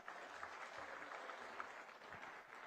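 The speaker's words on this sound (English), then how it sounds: "a warm round of applause to the Gambia for hosting us" Applause from a conference audience in Banjul, the Gambia, a steady mid-distance clatter of many hands clapping continuously without a break, fairly faint.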